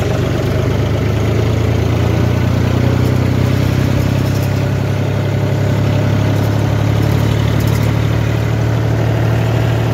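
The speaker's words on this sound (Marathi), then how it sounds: "हे बघा ट्रॅक्टर यायला लागले" Tractor engines idle and run steadily nearby on a farm road, giving a continuous low diesel rumble with constant vibration and no speech.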